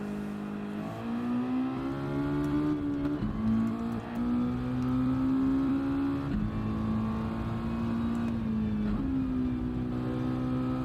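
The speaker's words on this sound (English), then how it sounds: "let's see if we can do a lap in this car. Where's mine? The Mazda MX-5 road car." Engine of a Mazda MX-5 road car in a racing video game, driven round Suzuka, drones loud and close, pitch climbing through each gear then dropping at the shifts, repeating several times with no talk.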